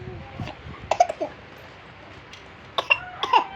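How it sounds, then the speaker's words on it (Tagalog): A young child gives a few short coughs in two small clusters, close by, set against a quiet indoor background with light rain-like hiss. "Nag-ubo-ubo na."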